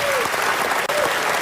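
A West Virginia crowd breaks into steady, dense applause, a continuous wash of clapping with a faint voice or whistle briefly showing through near the start and again midway.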